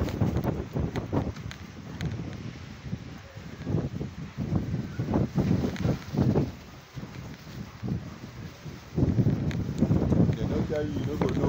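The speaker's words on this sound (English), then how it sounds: "Wind wey dey blow with dust." Strong desert wind in Abuja blowing dust, heard as gusty, rumbling buffeting against the microphone that rises and falls, with someone talking over it for much of the time.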